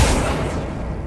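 An Accio spell is cast in Hogwarts Legacy, sounding as a single short, dense whooshing burst that starts loud and full and fades over about a second.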